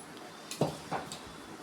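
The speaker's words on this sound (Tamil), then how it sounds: "ஸோ கரண்டி வச்சு நல்லா கிளறி விட்டுக்கோங்க" A ladle stirs brinji rice in a pot, giving two or three soft scraping clinks close by in a quiet room.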